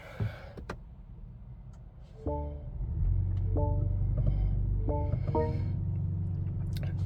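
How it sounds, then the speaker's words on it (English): A 2025 BMW X3 30 xDrive engine cranks with a brief starter whine, then catches and settles into a steady, low idle rumble heard from inside the cabin. "I'm just going to start the car."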